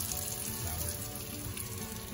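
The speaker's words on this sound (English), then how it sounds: "To crisp up these potatoes that I boiled." Boiled potatoes crisp up in a hot pan, giving a steady, close, faint sizzling hiss throughout a short stretch with no speech.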